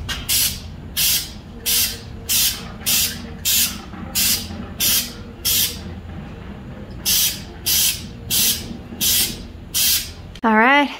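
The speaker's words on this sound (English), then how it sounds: "we're gonna spray paint them black." Aerosol spray paint hissing onto small L brackets to coat them black, in about a dozen short, evenly spaced bursts, close and loud, with a brief rising tone at the end.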